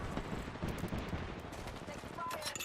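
Video game gunfire crackles in quick rapid bursts during a Vtuber stream, fairly quiet and dense, with a voice talking over the shots.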